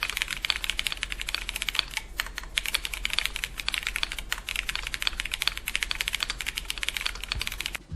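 Typing on a stock MonsGeek M1W mechanical keyboard, a dense, rapid run of crisp clacky keystrokes with a few brief pauses, close and steady across the whole stretch.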